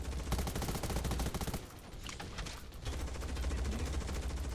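Sustained rapid gunfire crackles through a firefight in the zombie shooter Undawn, dense bursts running nearly the whole time with a short lull in the middle, loud and unbroken.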